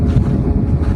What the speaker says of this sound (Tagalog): Grabe yung hangin talaga guys ngayon.